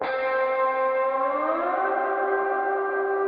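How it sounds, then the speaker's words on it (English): A slide sound used as a transition in a produced song: a sustained, harmonically rich synth-like tone whose pitch glides upward midway and then holds. It is loud and clean, with no other sounds. "I didn't just bring up something very quickly, which is this slide sound"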